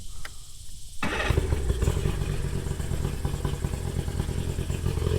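A 2-stroke outboard motor on a 2005 Triton 176 Sport bass boat cranks over and catches after a second of quiet, then settles into a steady, close, loud idle with a rapid buzzing putter.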